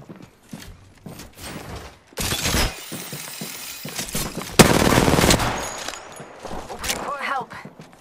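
Gunfire in the shooter game Apex Legends: sharp shots and rapid bursts crackle in clusters, with a long loud volley near the middle, mixed with game voices calling out.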